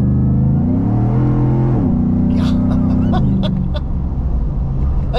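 A Roush Nitemare F150 pickup, a 700 HP truck, accelerates hard from a roll. Its engine note climbs in loud stepped surges, then stutters with rapid chattering thumps of wheel hop near the end.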